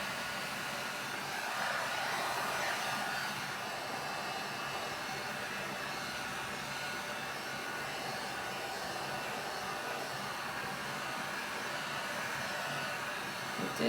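A steady, even whoosh of blowing air dries a wet t-shirt painted with chalk paint, holding constant and fairly soft from start to finish with no talking.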